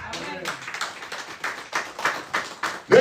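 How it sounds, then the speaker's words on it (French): A church congregation claps along in bursts of rhythmic applause during a French-language service, with talk and voices mixed in beneath the clapping. "Applaudissez Jésus."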